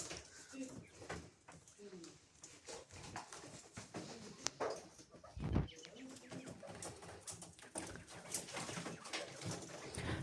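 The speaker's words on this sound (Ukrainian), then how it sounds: "Ось такі мої вже перепілочки." Young quails crowded in a cage give soft, scattered chirps and peeps, with a voice talking over them throughout.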